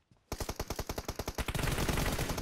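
Automatic weapon fire in PUBG Mobile, loud and close: a quick regular string of about a dozen separate shots that merges into a continuous roar of rapid fire.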